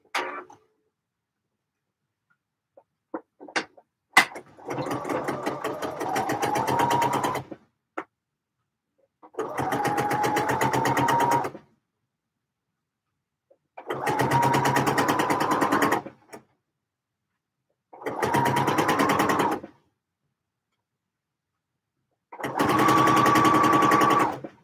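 A sewing machine stitches the back darts of a fabric skirt in five separate runs, each a steady close mechanical rattle lasting a few seconds, with quiet pauses in between and a few soft clicks before the first run.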